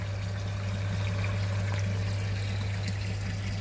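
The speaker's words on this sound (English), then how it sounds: "It's now been on backwash for about 5 minutes, and the water's now running clear." A water pump runs a bead filter backwash, giving a steady low mechanical hum under a continuous soft rush and trickle of flowing water.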